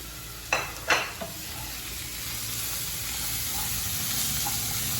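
Carrot and capsicum samosa filling stir-fried in a pan, with a couple of brief spatula scrapes early on over a steady, soft sizzle that continues throughout.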